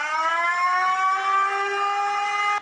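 A warning siren broadcasts an evacuation alert ahead of a typhoon in a riverside flood-prone area, a steady loud wailing tone that holds for nearly three seconds before cutting off.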